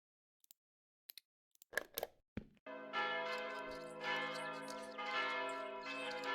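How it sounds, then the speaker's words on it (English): A few sharp clicks and knocks, then church bells in the video game Mon Bazou start ringing loudly with a rich, sustained metallic tone that carries on steadily. "Yes, yes, bells, I hear you."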